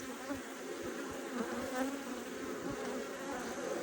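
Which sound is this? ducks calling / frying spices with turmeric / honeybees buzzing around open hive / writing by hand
honeybees buzzing around open hive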